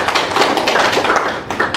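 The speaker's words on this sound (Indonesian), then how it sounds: "silakan tepuk tangan untuk kelompok" Hands clap together for a group at a school research presentation, a steady, close patter of many claps running the whole time without letup.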